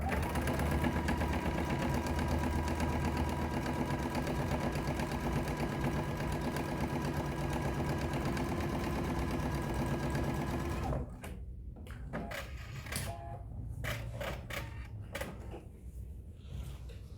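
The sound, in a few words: sewing machine sewing across the bottom of a basket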